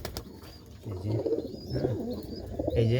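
Low, throaty pigeon coos repeat a few times at close range over a faint background hiss.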